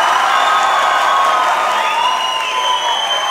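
A comedy show audience breaks into sustained applause mixed with cheers and whoops, a dense, steady wash of clapping and shouting filling the room for several seconds.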